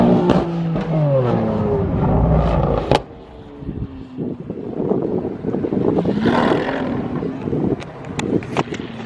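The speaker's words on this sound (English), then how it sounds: "That car is one of the most brutally sounding, naturally aspirated V12s on the market right now." A Lamborghini Aventador SVJ with a naturally aspirated V12 revs hard, its loud rising and falling roar up close at first, then fading into busy outdoor noise with further bursts.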